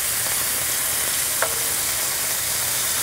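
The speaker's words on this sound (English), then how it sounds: "we'll let that meat cook just a little bit more" Beef sizzles and fries steadily in a hot pan for a hot beef sundae dish, a continuous close crackling hiss with a faint clink partway through.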